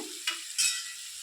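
Salted sambar being stirred in a pot, a soft scrape or two against the metal under a light background hiss, with no talking.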